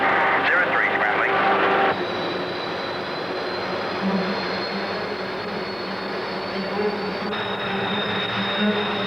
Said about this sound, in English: an RAF fighter is scrambled on a quick reaction alert